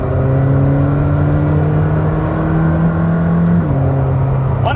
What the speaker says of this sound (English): getting cracks and pops now